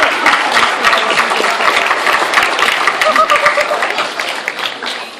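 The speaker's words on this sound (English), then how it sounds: "Only 3 people were clapping." Scattered clapping from a small group of people in a room, moderately close, with a crowd-like wash of hand claps that thins toward the end.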